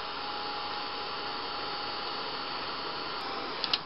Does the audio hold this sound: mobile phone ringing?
no